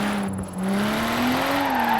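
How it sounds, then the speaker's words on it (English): A BMW E36 M3 slides through a corner in big oversteer, tires squealing in a continuous rising screech over a steady, loud engine drone lasting the whole moment. "Yeah, big oversteer in turn 1."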